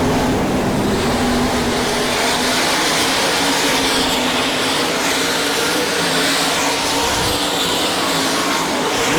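Sprint cars roar around the dirt track at Sarver, Pennsylvania, during an All Star Circuit of Champions Speedweek race, a constant loud wash of engine noise for the whole stretch, with no break.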